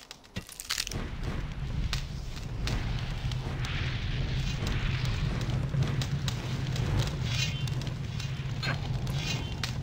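In Gothic II, a rain of fire spell hammers down, a dense crackling roar of fiery explosions with sharp bursts and a steady rumbling bed, sustained and moderately loud after a brief quiet start.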